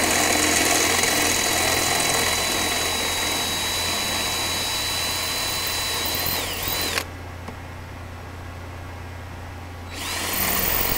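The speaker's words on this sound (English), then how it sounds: "that's the demonstration of how to drill out these rivets" A power drill drilling out rivets whines steadily for several seconds, cuts off abruptly into near quiet, then starts spinning again at the end.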